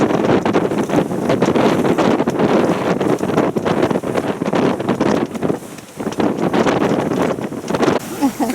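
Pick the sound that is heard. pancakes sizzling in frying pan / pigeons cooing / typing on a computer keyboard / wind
wind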